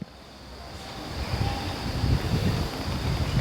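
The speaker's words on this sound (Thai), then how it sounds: "ลมหนาวพัดมาวอยวอย" Cold wind blowing steadily outside a monk's hut, a broad rushing hiss that builds gradually and stays fairly loud throughout, with no voices.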